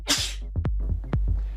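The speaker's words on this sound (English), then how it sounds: "Ever tempted to stifle a loud or untimely sneeze?" One loud, sharp human sneeze bursts out at the start, followed by a few quieter breathy sounds and small clicks, close to the microphone with no talking.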